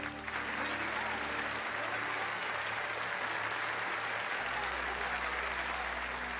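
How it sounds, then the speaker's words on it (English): Sustained crowd applause in a Final Fantasy game cutscene fills the scene, steady and dense throughout, with a low hum underneath. "Don't clap for him."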